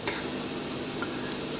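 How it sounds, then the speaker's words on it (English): Garlic dropped into a pan of onions that have been sweating down, giving a steady close sizzle with light stirring, alone and without talk. "the onions are starting to look good. So now we're going to put the garlic"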